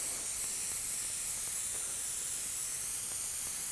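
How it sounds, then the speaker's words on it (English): A spray gun lays down black cherry candy paint in a humid workshop, a steady, even hiss of air and atomized paint held close and unbroken throughout. "Spray it on there a little on the wet side."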